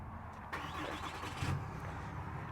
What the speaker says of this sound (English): we fire up that big inline 6 turbo diesel engine